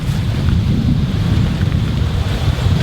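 Steady wind buffeting the microphone, a loud continuous low rumble with no breaks and no voices.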